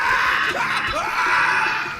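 A person shouts in a sustained, strained cry that runs loudly through the whole two seconds, with no clear words and a raspy, screaming edge.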